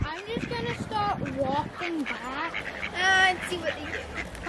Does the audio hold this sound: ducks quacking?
yes